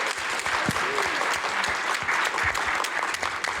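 Applause from the audience closing the final session of a food technology track at CES, a steady dense crowd clapping that fills the whole stretch at even loudness, with a few faint voices underneath.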